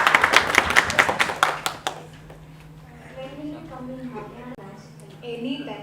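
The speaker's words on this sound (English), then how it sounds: "Big round of applause for Siri." Brief audience applause for Siri at a movie press meet, a burst of clapping that fades within two seconds before a person starts speaking.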